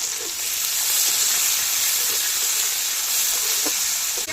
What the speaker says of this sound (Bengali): ফোড়ন দেওয়া তেলে এবার পেঁয়াজ কুচি দিয়ে দেবো পেঁয়াজগুলি এবার লাল লাল করে ভেজে নেব